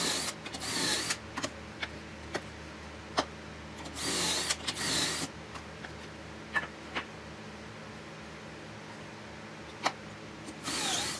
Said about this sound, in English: We'll also be screwing 2 pocket holes into the ends of each of the cross pieces.